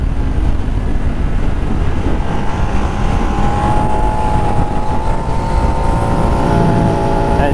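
Engine of a 13-year-old Ducati motorcycle revving and stuck at 7,000 rpm, a loud, steady, close drone held at one pitch with a slight upward drift throughout.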